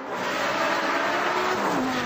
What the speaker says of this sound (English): The engine sounds fantastic, it's got straight-through exhausts in it.